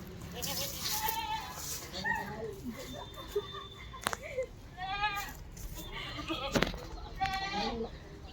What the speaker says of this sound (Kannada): ಮೇಕೆ ಎಲ್ಲ ಸಾಕಿದ್ದಾರೆ.